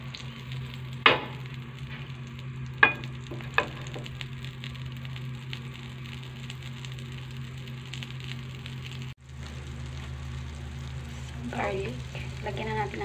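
Butter melting in a pan for Filipino garlic fried rice gives a steady, close sizzle and fry throughout, with a few sharp utensil taps early on and a brief dropout partway through.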